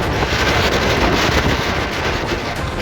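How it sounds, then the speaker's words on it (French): Strong wind buffeting the microphone in a constant, loud roaring rush, with gusty swells and no voices, while riding an electric unicycle along the Seine near Villequier. "il y a du vent. Il y a pas mal de vent"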